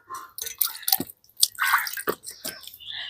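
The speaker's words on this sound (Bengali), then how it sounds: "আমগুলোকে ভালো করে জলে ধুয়ে নিয়েছি এবারে তুলেও নিচ্ছি" Freshly washed raw mangoes are lifted out of a bowl of water, giving scattered drips, splashes and wet squelches of fruit in short irregular bursts, close by with no talk.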